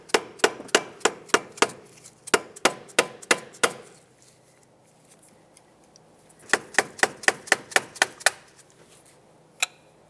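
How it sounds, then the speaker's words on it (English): Sharp metallic tapping in two bursts of rapid, evenly spaced strikes, a flathead screwdriver knocked against a stuck front ABS wheel speed sensor on a Mazda 6, close and loud, with a pause between. "Now I'm going to take a flathead screwdriver, try to tap it."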